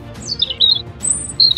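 Several birds chirp and call in quick, bright bursts: short high squawks and tweets come in three clusters over a soft background.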